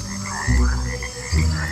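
A cane toad croaks twice, each call a deep, throaty, pulsing croak heard close and alone, with a short gap between the two calls.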